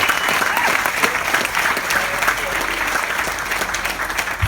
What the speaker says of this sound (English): Round of applause to Rob Gray and his amazing crew.